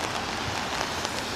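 Heavy rain pouring down on a New York street near Central Park, a dense steady hiss of drops on surfaces with faint patter, continuous and even throughout, nobody talking.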